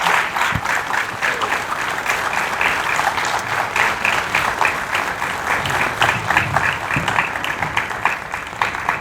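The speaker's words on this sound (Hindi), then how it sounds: "एक बार जोरदार तालियां।" Steady, dense applause from an audience fills the space for several seconds, loud and continuous with a broad crowd texture and no voices on top.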